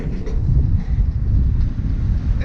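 Strong wind gusts buffet a sailboat in roughly 20-knot winds, a loud, continuous low roar with steady turbulent rumble and no voices.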